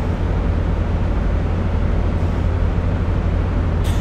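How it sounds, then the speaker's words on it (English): Valenta engines of a Class 43 high-speed train, simulated in Train Sim World 4 on the Great Western route out of Paddington near 100 mph: a steady, deep, droning rumble that carries on unbroken throughout. "Bit of Valenta engines, I do. I just love the sound of it."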